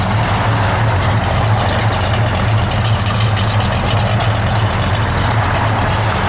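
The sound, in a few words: 1970 Plymouth Duster engine idling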